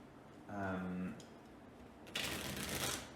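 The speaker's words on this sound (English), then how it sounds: "We need to shuffle the command cards." Memoir '44 command cards are shuffled in two short riffling bursts at close range, with a brief murmured voice just before them.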